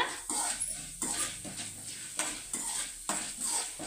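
Cashews, peanuts and chana dal fry in oil and are stirred in a pan. Soft sizzling runs under repeated scrapes and clinks of a spatula against the pan, close but fairly quiet, with no voices.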